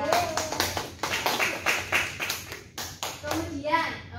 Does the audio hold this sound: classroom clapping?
yes